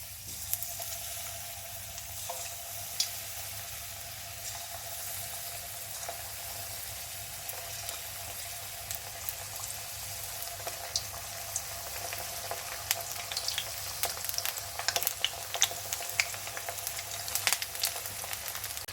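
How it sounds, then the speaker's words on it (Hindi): Batter-coated cauliflower florets for Gobi Manchurian deep-fry in hot oil, a dense, continuous sizzle with crackling pops that grow busier toward the end, steady and close with no talking. "चलिए गोभी फ्राई करना शुरू करते हैं।"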